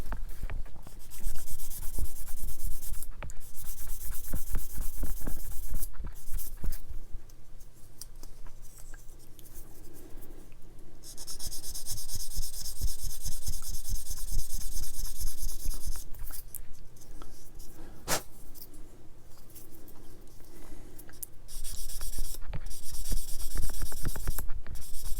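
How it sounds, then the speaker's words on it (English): Fine sanding of plastic parts from a Tamiya 1/24 Ferrari LaFerrari model kit, close, dry rhythmic scratching strokes in bursts separated by brief pauses, quiet and alone. "You have to use a fine sander"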